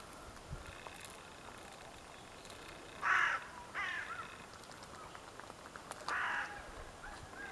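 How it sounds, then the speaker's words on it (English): Crows caw in short harsh bursts outdoors on an evening, three distinct calls spaced a few seconds apart over a quiet background. "There's some crows."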